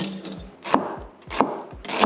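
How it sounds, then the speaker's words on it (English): Knife chopping shallots on a cutting board, a few crisp close-up strikes in an irregular rhythm with soft scraping between them. "Just give it a nice little chop."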